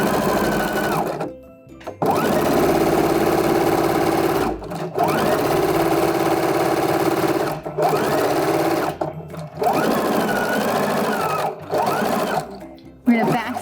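A sewing machine fitted with a gathering foot runs in loud, close bursts of rapid stitching as it back-stitches and gathers fabric, stopping briefly between runs while someone talks over it.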